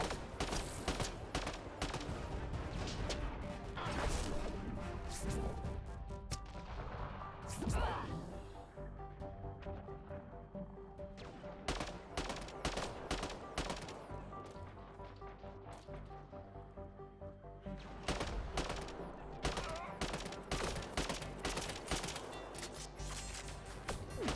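Rapid gunfire and impacts in the video game Mass Effect Andromeda during a firefight with Remnant enemies, quiet and sustained bursts of shots with a brief lull in the middle.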